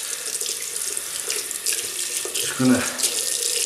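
Water runs from a tap into a sink during a shave with a Gillette Slim adjustable razor and Palmolive shaving cream, a steady close splashing stream with a brief spoken remark over it.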